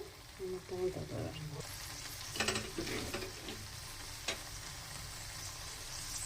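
Cabbage frying in a kadai makes a soft continuous sizzle with a few stirring scrapes and clatters, close and fairly quiet. Faint speech-like sounds appear near the start.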